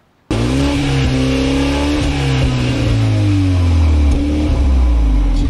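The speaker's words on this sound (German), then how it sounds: "immer noch bester Motorsound. Immer wieder ein Schmaus, wenn man das Auto zündet." A car engine in the video game Fortnite starts abruptly and revs loudly, the pitch climbing and dropping in several surges with sustained droning tones, close and alone without talk.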